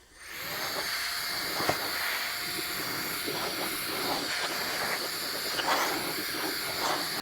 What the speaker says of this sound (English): This is setting number 1 on the blower